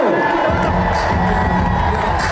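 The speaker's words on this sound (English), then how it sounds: "Make some noise for the legendary skateboard Pete tonight in New York City." A New York City crowd cheers loudly for skateboarder Pete, a dense roar of shouts and whoops that swells and stays strong throughout.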